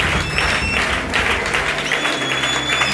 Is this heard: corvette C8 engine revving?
no